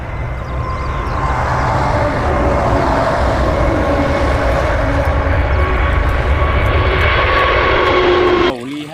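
Steady, loud drone of a fixed-wing airplane engine holding close and constant for several seconds, then cutting off abruptly near the end, with no talk over it.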